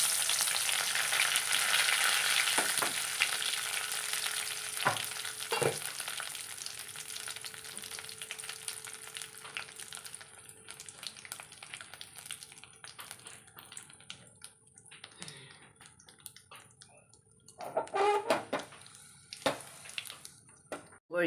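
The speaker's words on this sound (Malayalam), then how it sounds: "കുറച്ച് കറിവേപ്പില ഇട്ട് കൊടുക്കാം." Curry leaves dropped into hot oil for a pumpkin pulissery, bursting into a loud crackling sizzle that fades to quieter spitting and a few clinks before flaring again near the end.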